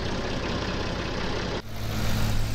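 Massey Ferguson tractor engine in the Farming Simulator 19 game, a loud steady diesel drone that drops abruptly partway through, then settles into a deeper, louder low hum.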